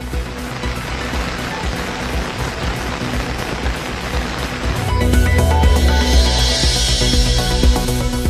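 Heavy rain pours steadily near Nagercoil, with dense broadband hiss that swells louder partway through, joined by a rushing, water-heavy roar and faint tonal hum.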